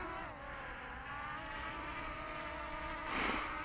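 Motors of an Eachine EX5 sub-250g GPS quadcopter drone spin up with a steady buzzing whine that rises in pitch, growing louder near the end; no one speaks.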